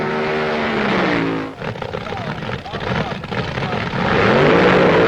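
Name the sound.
vintage drag racing cars racing a quarter mile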